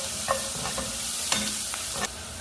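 Onions being fried in a pan for egg malai curry, a continuous close sizzle with a few scraping stirs and brief clinks, no voices.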